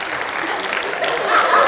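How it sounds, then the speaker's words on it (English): Steady applause from a school audience at a hypnosis show, dense and moderately loud throughout, swelling slightly toward the end. "Round of applause for the great job that she did."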